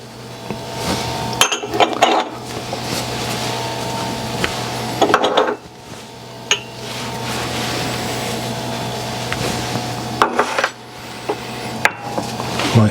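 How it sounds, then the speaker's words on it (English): Garlic, saffron and cumin being stirred together in a bowl for a Moroccan lamb tagine, giving light clinks and scraping rubs of a utensil against the dish, in a few short bursts over a steady kitchen hum. "I'm just going to mix all my spices together"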